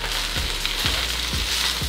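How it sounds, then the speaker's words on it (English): Steady broadband sizzle of chicken fried rice frying in olive oil in a hot pan, with a few soft thumps of stirring every half second or so, close by. "You can hear that nice sizzle."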